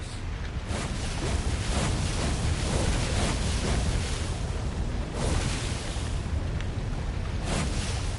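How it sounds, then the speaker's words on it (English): Cannon traps fire in a temple in the video game Stories: The Path of Destinies, a loud, continuous roar of booming blasts with a few sharper bursts standing out over eight seconds, with no voices. "Reynardo hated cannon traps."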